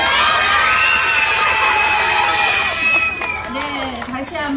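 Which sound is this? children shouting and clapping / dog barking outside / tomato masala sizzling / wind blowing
children shouting and clapping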